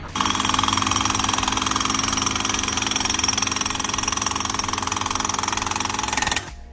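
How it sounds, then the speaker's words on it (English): A jackhammer driving 36-inch tent stakes pounds continuously at close range in a loud, rapid, steady rattle for several seconds, then abruptly stops. "we'll take over with the Stakinator jackhammer"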